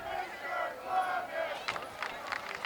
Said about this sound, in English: Wayland fans are chanting something.